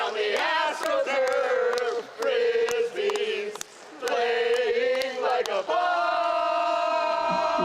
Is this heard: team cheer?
yes